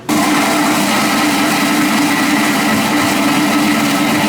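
An SS SILENT1500 soundproof blender blends coffee with a steady, loud motor whir that starts abruptly and holds constant without pause, no voices over it.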